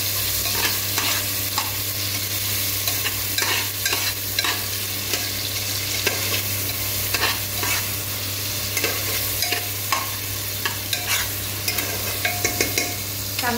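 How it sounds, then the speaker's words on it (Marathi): Tomato frying in a pan for moong dal khichdi, a continuous close sizzle with frequent rhythmic scraping and tapping of a spatula against the pan under a low steady hum. "आता हा टोमॅटो भाजायचा, चांगलं फ्राय करायचं, चांगलं भाजून घ्यायचं."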